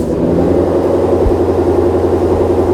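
A Ford Shelby GT500 engine on a cold start settles into a loud, steady, deep rumble close by, running continuously with no voices over it.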